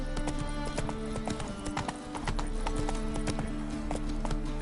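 Roach, the horse in The Witcher 3: Wild Hunt video game, gallops with rapid, sharp, close hoof clops in a driving rhythm, briefly easing before picking up again, over low background music.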